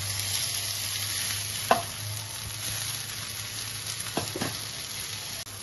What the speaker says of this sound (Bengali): ধোয়া চালটা জল ঝরানো দিয়ে দিচ্ছি, ভেজে নেবো